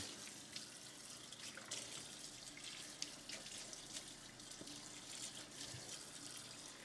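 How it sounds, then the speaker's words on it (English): Dishes rinsed under a running kitchen sink tap after being cleaned with a lemon dish spray, giving a faint, steady stream of water with light splashes and clinks, with no talk. "Rinsing this right here."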